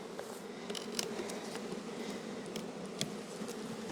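Honey bees buzz steadily from a hive opened during a split check, the frames of brood and bees exposed, with a continuous close drone and occasional brief clicks and knocks.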